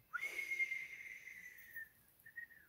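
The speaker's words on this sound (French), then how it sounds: "c'est moi qui ai sifflé" A person whistles one clear, sustained note that slowly falls, then adds a short second note after a brief gap. It is close and alone, with no talking.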